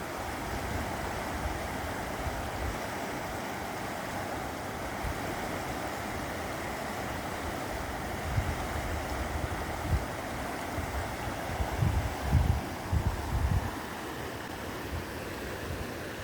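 Cold river water at Krueng Batee Iliek in Samalanga flows in a constant, broad rushing wash, steady and close throughout, with a few low burbles and splashes rising near the end.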